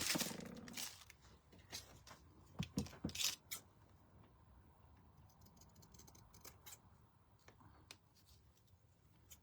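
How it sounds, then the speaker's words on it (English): Scissors trimming small craft pieces, likely ribbon ends, on a deer door hanger, a few crisp close snips clustered early, then quiet handling. "I'm trimming them kind of on an angle"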